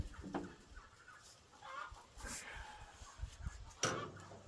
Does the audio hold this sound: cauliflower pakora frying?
no